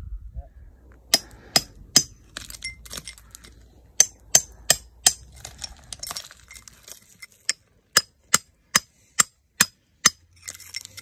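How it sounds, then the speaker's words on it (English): A hammer strikes rock to free fluorite, sharp metallic clinks in irregular bursts, then a steady run of about eight evenly spaced ringing blows, close by, with quiet rustling between. "we're going to have a go hammering it out"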